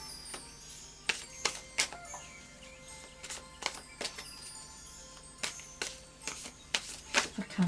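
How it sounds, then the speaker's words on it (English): A deck of Anna K Tarot cards is shuffled by hand, giving irregular sharp riffling bursts and soft slides spaced through the clip, close and fairly quiet. "So I'll just do a final shuffle now of the Anna K Tarot."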